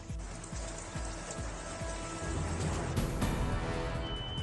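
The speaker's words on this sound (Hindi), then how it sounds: "बागेश्वर में भारी बारिश के बाद नालों में आया उफान" Steady heavy rain pours onto hard surfaces nearby in Bageshwar, a dense continuous patter that swells slightly halfway through.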